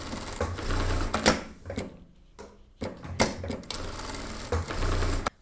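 A sewing machine stitches dress straps in loud, steady bursts of rapid needle clatter, broken by short pauses and a couple of sharp clicks between runs.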